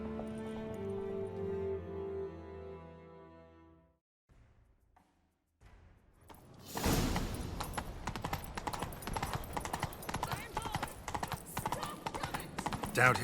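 Horse hooves gallop in a rapid, steady clip-clop rhythm, loud and close, after a stretch of music and a short quiet pause, in The Witcher 3: Wild Hunt.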